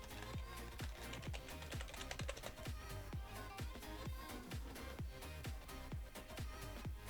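Fingers type on a computer keyboard in quick, steady runs of close clicking keystrokes that continue without pause throughout.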